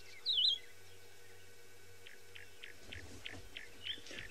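A wild bird's liquid, gurgling call, like water glugging out of a bottle, heard as one clear warbled note followed by a faint series of soft repeated notes. The scene is outdoors on a safari, with no talking.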